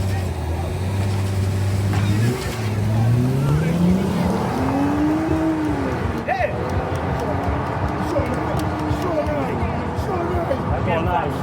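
Drag racing car on a test run at Canefield Airstrip, Dominica: a loud engine roar rising and falling in pitch through revs, with people talking over it amid outdoor crowd noise.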